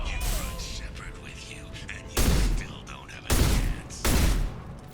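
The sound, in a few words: concussive shot and gunfire in Mass Effect video game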